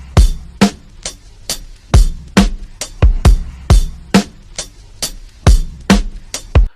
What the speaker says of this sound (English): I decided to go through my own drum kit and kind of see what type of drum breaks I had.